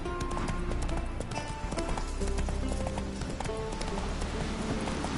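Roach the horse galloping in The Witcher 3 Wild Hunt, rapid rhythmic hoofbeats pounding up close with jingling tack and ambient game sounds, continuous and loud.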